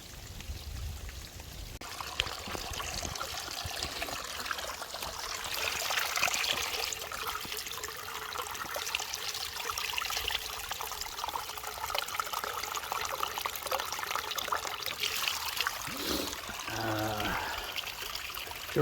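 Trickling stream water collected beside a muddy hiking trail, a steady close splashing flow that runs throughout, with brief rustling and handling noise near the end.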